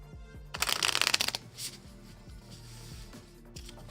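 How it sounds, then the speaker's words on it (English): A board game deck of cards is shuffled up close, with a loud burst of rapid riffling flutter followed by a few softer card slaps and handling noises over quiet background music. "I'm gonna give these a good shuffle"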